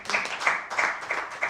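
Church congregation clapping in a steady rhythm during a worship service, a roomful of hands beating together in repeated bursts at moderate volume, with no clear voices on top.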